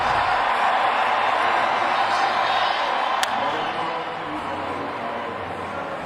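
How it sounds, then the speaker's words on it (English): Baseball crowd at the 2021 MLB Home Run Derby during All-Star Week, a broad steady roar of cheering that fills the stadium and eases off slightly toward the end. "And now the crowd gets into it."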